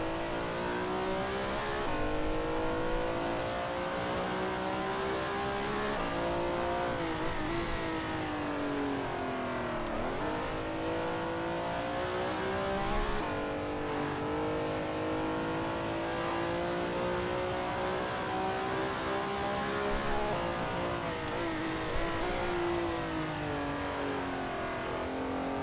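Race car engine in Assetto Corsa Evo revving hard and steadily, with clear pitch sweeps as the driver shifts and blips through downshifts, loud and continuous with no talk.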